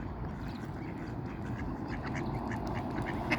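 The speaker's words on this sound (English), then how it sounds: "There's a tufted duck over there." A tufted duck quacks at a park pond where birds are being fed corn, its calls faint and intermittent over a steady low outdoor rumble.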